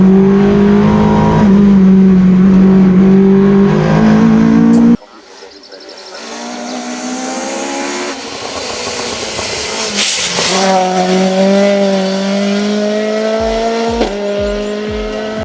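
A Ford Escort rally car with a BDA engine of about 120 horsepower races in a Need for Speed game, its engine droning and rising through revs with gear changes and tire noise, loud and close.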